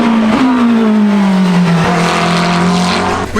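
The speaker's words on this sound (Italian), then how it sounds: "Qui invece le auto da NASCAR." A NASCAR race car at the Goodwood 2019 motoring festival roars past in a loud, close, sustained engine drone whose pitch slides steadily downward, with a faint tire-skid edge and no voices.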